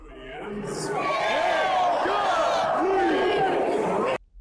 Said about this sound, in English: the crowd finishes up by yelling incomplete